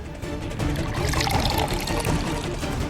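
Water is poured out for an elderly grandfather in a household scene, a steady, fairly loud close pouring stream lasting a few seconds, with faint background noise and no clear speech.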